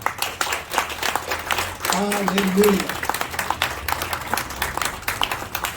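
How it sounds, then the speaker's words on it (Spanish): A church congregation gives a burst of applause, moderate and somewhat distant, with a voice calling out over the clapping. "Denle un aplauso al Señor."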